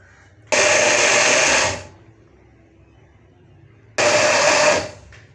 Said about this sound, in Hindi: और हम इसको उस वक्त तक ग्राइंड करेंगे जब तक एक फ्लफ़ी शेप में नहीं आ जाता